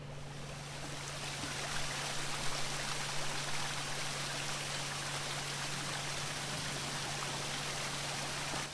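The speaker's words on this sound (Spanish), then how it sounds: "Vale, hemos hecho que caiga agua de ahí" Water pouring steadily from a pipe in the game Jack Keane, a continuous, even splashing rush that holds at the same level from start to finish over a low steady hum.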